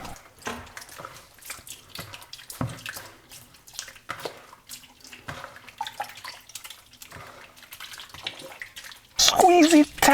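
Soursop fruit mash squeezed by hand to press out juice, producing wet squishing and dripping in repeated bursts, close up, with a louder splashing gush near the end.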